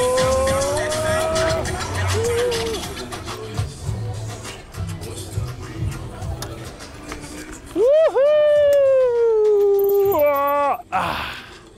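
Small Steereon electric vehicle driving off-road at power level 5: a close, whining electric motor rises and falls in pitch under rough terrain noise, with people talking over the first part.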